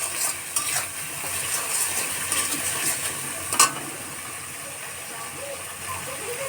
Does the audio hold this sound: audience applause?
no